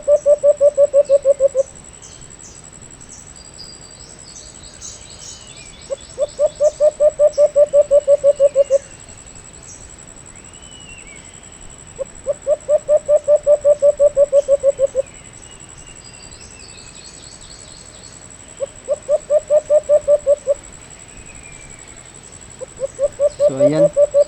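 A bird used as a hunting lure for alimokon calls in long, clear, repeated bursts of rapid cooing notes, each lasting a few seconds with quiet gaps between, loud and close in an otherwise still outdoor setting.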